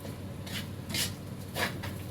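A spatula scrapes a pan while stir-frying chili paste fried rice, giving three soft, brief scraping strokes over a low steady background, close but quiet.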